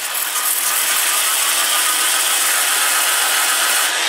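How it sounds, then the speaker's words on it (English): Sandpaper rubs against the spinning rim of a Spanish olive wood bowl on a lathe turning at 450 RPM, a continuous loud hiss that stays even throughout. "Probably sand that little rim"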